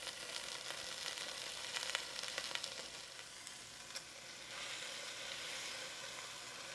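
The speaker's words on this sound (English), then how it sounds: "we want a nice sear on our beef" Beef searing in a hot pan for a hearty stew: a steady, close sizzle and hiss with small crackling pops and a brief stirring scrape, fairly quiet and continuous throughout.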